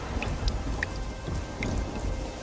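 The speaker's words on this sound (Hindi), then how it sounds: "ये बारिश का सिलसिला यूं ही कुछ दिन तक जारी रहता है।" Steady rain falling with deep, rolling thunder beneath it, a close, continuous hiss of drops and occasional brighter drips, with no voices.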